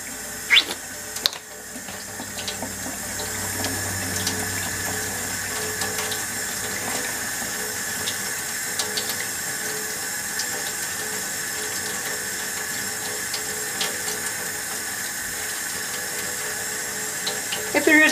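Tap water runs steadily while a doll's hair is washed with Dove shampoo. The flow is a continuous, even rush that lasts the whole time, with a few small splashes near the start.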